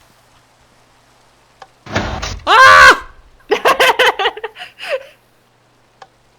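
A sliding door on a space-expedition game map whooshes open and shut in a loud mechanical burst, followed by a person's startled exclamation and other voiced sounds.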